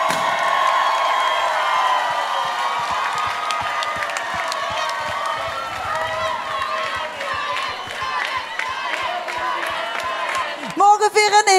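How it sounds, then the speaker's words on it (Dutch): A large audience at the TVK 2020 carnival song contest final in Tegelen applauds and cheers in a steady, dense wash of clapping with whoops. The applause runs continuously and stays loud throughout, and a voice briefly cuts in near the end. "geef ze een goed applaus"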